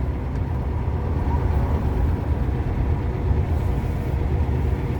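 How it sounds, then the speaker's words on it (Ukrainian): A car engine drones with revving from nearby on a road, where a Zaporozhets 968M is on the move, a steady loud low rumble that swells slightly without clear distinct rev peaks. "Дідусь якийсь газує."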